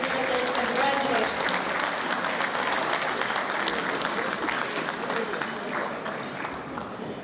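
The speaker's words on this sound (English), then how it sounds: "Please, a big round of applause." Audience applause at the 2015 Westpac PM Exporter of the Year Awards ceremony, a loud, dense burst of clapping from a large room that continues steadily and eases off slightly toward the end.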